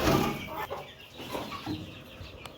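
Aseel hens clucking on a small farm, a few close, soft, overlapping clucks and murmurs that run continuously with no people talking.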